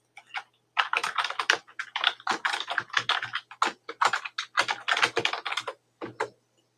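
Typing on a computer keyboard, a close, irregular run of quick key clicks in bursts with brief pauses, alone without talk.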